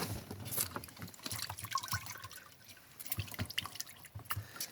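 Water drips and trickles from an overflowing Goodman heat pump unit outdoors in rain, a faint, irregular patter of drops with small splashes continuing throughout.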